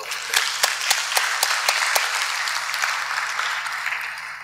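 Steady audience applause at an international forum session in Tanzania, dense clapping from a seated crowd that holds for several seconds, with a few sharper claps near the front, moderately loud and without talk.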